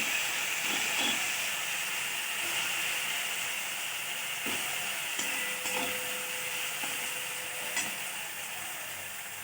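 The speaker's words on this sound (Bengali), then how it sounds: "রসুন বাটাটা দিয়ে দেব, নেড়ে দেব।" Garlic paste and tomato sizzling in a hot pan while stirred, a steady bright frying hiss with occasional soft scrapes and clicks of the spoon, close and continuous with no talking.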